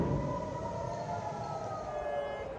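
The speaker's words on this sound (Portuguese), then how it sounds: "Mas hoje as sirenes soaram também na cidade sagrada de Jerusalém." Air raid sirens sound in Jerusalem, Israel, a long sustained wail that holds steady, loud and distant-sounding over a rumbling background, with no voices.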